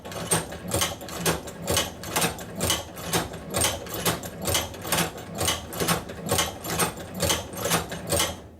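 A manual sewing machine stitches through a piece of leather, its needle punching in a steady, even rhythm of close, repeated mechanical beats with no talking.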